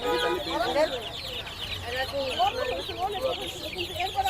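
Sonali breed chickens cluck and squawk at a busy village poultry market in Hemayetpur, with close, overlapping bird calls and a murmur of people in the background.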